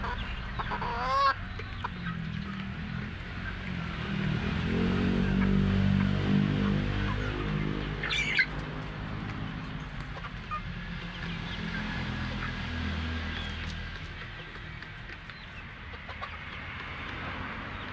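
Four-month-old Darag native chickens clucking steadily at close range, with a few sharper calls standing out over a constant low farmyard hum.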